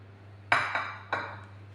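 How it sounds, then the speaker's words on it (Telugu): Garlic dropped into a glass bowl gives three sharp clinks in quick succession, each ringing briefly and fading, close and clear against a faint steady hum with no talk. "ఇప్పుడు మనము ఒక గిన్నె పెట్టుకుందాము, గాజు గిన్నె"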